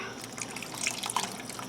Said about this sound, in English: I'm going to add some water to it. About 1/2 cup of water.